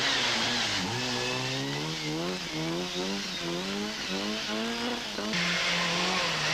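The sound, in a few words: Astra rally car driving in a rally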